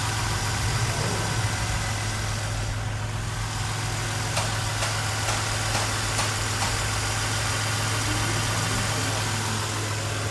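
A freshly rebuilt, completely redone Toyota Tacoma engine idles after a motor swap, giving a loud, close, steady low hum with a smooth even rhythm that continues without talk.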